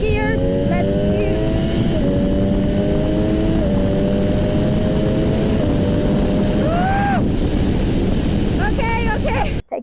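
An MV Agusta F3 800, an 800cc Italian three-cylinder sport motorcycle, accelerates hard in second gear, its engine note climbing steadily and loudly with a short gear change, heard up close over heavy wind rush.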